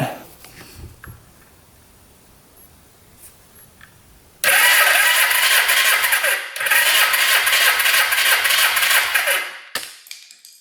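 Motorcycle engine cranking with the throttle held open during a compression test on the fourth cylinder, a loud steady whirring starter drone in two long bursts with a brief break, ending abruptly.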